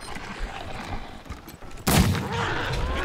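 A gunshot in the video game Wasteland 3: a sudden, loud blast bursts out after about two seconds of quieter game ambience, then leaves a sustained, noisy tail.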